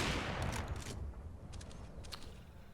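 Counter-Strike pistol gunfire on the Overpass map during a pro match, a quick scatter of sharp shots in the first second and another burst toward the end, over steady game background noise.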